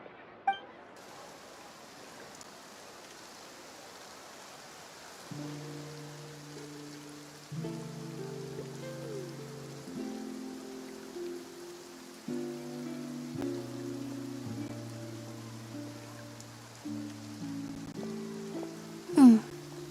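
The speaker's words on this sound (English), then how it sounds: "Looks like rain." Soft, steady rain hiss falls in the Fontaine region of a video game, with gentle game music tones playing over it and a brief chime near the end.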